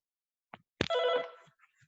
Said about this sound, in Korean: 잠시만요. 전화가 와서 1분만요.